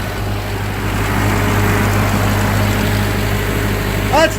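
A 1945 Ford 2N tractor engine runs steadily at idle close by, a constant low rumble with a brief sharp squeak near the end.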